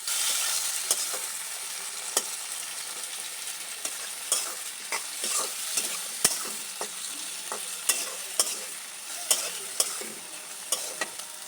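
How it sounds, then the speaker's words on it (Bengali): Chopped brinjal and tomato frying with onions in a Bengali village-style pan, under a steady close sizzle with sharp clicks and scrapes from stirring scattered throughout. "এর মধ্যে দিয়ে দেবো এখন টুকরো করে রাখা বেগুন এবং টমেটো এবং বেগুনগুলো দিয়ে হালকা করে ভেজে নেব"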